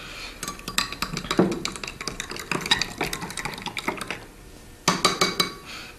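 Soil and water are stirred in a cup, giving a run of quick clinking, scraping taps against the cup's sides, fairly close and steady, with a short pause before a final burst of stirring.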